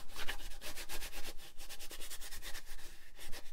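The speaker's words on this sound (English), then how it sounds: "just take some baby powder and rub it over the surface" Close, soft rhythmic rubbing of baby powder over a sticky junk journal cover, a series of brushing strokes repeating steadily at a moderate pace with no talk.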